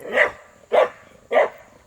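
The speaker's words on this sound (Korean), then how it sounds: "강아지 옆에 있어요" A dog barks three times at roughly even half-second intervals, sharp and fairly close, beside an old countryside yangban house about 360 years old, with quiet pauses between barks and no talking.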